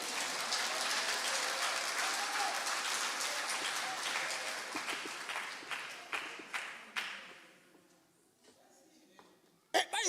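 A church congregation applauds during a sermon, with dense clapping that thins into scattered separate claps before a short silence and a final sharp sound.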